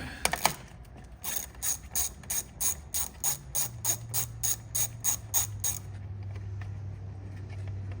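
Ratchet loosening a 10 mm nut at a Ford F150 fuse box, a close, quick series of about fifteen crisp clicks in steady rhythm, then quiet with a faint low hum.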